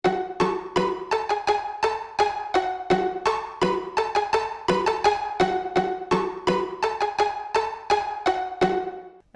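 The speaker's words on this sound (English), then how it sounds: "So first I created this flute melody" A simple repeating flute melody sits in a hip-hop beat, bright tonal phrases looping over steady percussive hits, loud and close with no voices.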